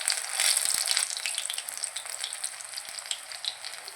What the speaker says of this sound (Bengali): বক ফুলের বড়া আমি ভেজে রেখেছি, আর এটা ভাজছি